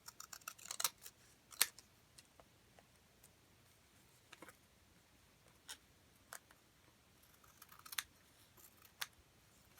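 Scissors cutting paper for a floral journal make sparse, faint snips and crisp rustles, some grouped in quick clusters, with quiet gaps between them.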